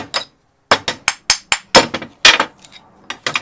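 Hammering a part during trailer repair on a Coleman Versa trailer: about a dozen sharp metallic strikes in an irregular rhythm, loud and close, with brief ringing after some blows.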